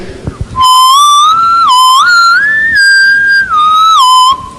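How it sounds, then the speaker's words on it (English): A clear, tuneful whistle carries a wandering melody with a few short breaks, loud and close, with no one talking. "So this is someone whistling."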